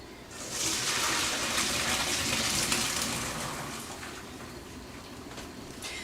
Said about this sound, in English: I just dumped everything into a strainer into the sink.